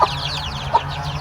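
Native chickens on a poultry farm: two short clucks, one at the start and another under a second later, over a low steady background hum of the coop, with no talk.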